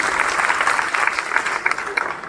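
Loud, steady applause from an audience clapping for children at a competition event, dense and continuous throughout with a faint murmur of voices underneath.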